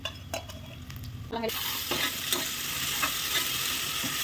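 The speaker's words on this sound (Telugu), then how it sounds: "పచ్చిమిర్చి, కొద్దిగా కరివేపాకు, పుదీనా, కొత్తిమీర కొద్దిగా అది కాస్త ఆయిల్లో ఫ్రై అయిన వరకు కలుపుకోండి" Green chillies, curry leaves, mint and coriander being stirred in hot oil make a loud, steady sizzle that rises sharply partway through, with soft scraping of a spoon against the pan, close by, with no voices.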